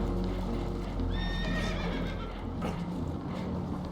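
Spooked horses in Red Dead Redemption 2 neighing and whinnying in a couple of shrill calls over steady rumbling background noise, with hooves clip-clopping nearby.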